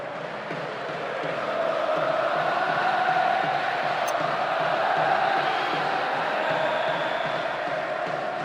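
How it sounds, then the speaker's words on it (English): Stadium crowd in the football video game PES 2010 during a UEFA Europa League match, a broad steady roar of cheering fans that swells after the first second and holds loud throughout, with no commentary over it. "The crowd's on its feet with excitement and appreciation."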